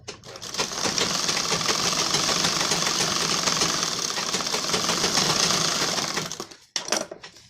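An electric sewing machine runs steadily while double-stitching a tucked blouse, a fast, even mechanical whir and needle patter for about six seconds before stopping, followed by a couple of brief clicks.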